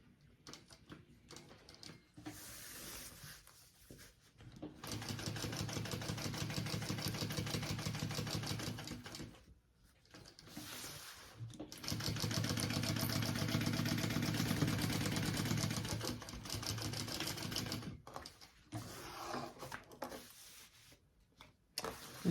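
A sewing machine stitches a bag in two sustained runs of several seconds each, a close, even mechanical whirr with a brief pause between them and quieter handling sounds before and after.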